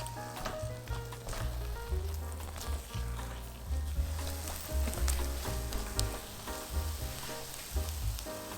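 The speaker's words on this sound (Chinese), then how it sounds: "然后加入30克的食用油，建议味道比较小的，比如说玉米油，然后接着翻炒。" Grape mooncake filling stir-fried in corn oil in a pan, giving a continuous soft sizzle with light stirring under background music.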